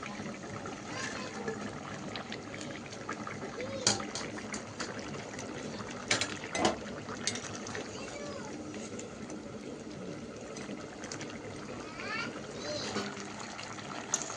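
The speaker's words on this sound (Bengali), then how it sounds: "পটল আলু আর মাছের তরকারির ঝোলটা ফুটে উঠেছে" Curry gravy of pointed gourd, potato and fish bubbles steadily in a pot, making a continuous soft simmering, gurgling texture with occasional louder pops throughout.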